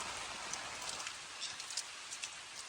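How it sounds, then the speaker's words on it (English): Steady rain hissing across a surface on a mountain trail saddle, with scattered louder drops pattering on top; no voices, just a continuous wash of rainfall. "Oh, rain."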